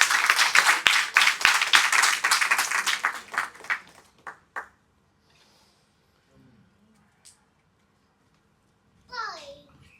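A church congregation claps together for about four seconds, the applause thinning into scattered claps and fading into near silence, followed by a few faint, brief voices.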